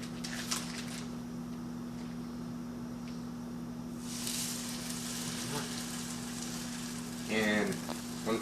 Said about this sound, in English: So, I am going to go ahead and cook 2 slices of ham.